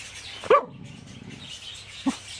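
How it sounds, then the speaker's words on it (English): A dog gives two sharp barks close by, the first louder, the second shorter, with outdoor background noise between them. "Why do you need to be barking in my ear?"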